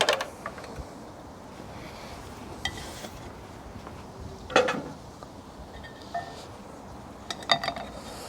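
A spoon drops bacon dumpling mixture into turkey stew cooking on a Kamado Joe Classic 3 grill, making scattered light clinks and soft plops over a quiet background, with a few sharper metallic taps.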